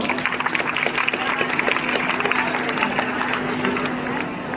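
A crowd of listeners claps steadily at a cyber crime awareness session, a dense, continuous patter of many hands held at an even level throughout, with no voices standing out.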